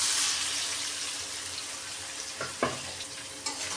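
Marinated kingfish and onions frying in a pan, a steady broad sizzle with a few sharp crackles and spits near the end, no voices.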